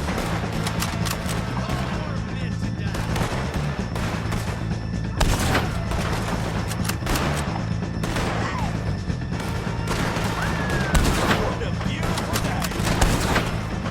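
Gunfire in Red Dead Redemption 2 during a shootout, with dense, repeated rifle and pistol shots crackling nonstop, loud and close, as voices shout over the fight.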